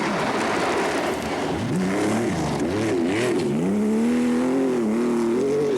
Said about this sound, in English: still there in his raucous Porsche